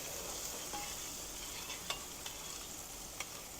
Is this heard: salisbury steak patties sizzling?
yes